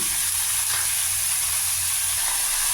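Taro (kachu) pieces frying in a pan with green chilli give a steady, close sizzle and hiss that runs evenly throughout with no voices.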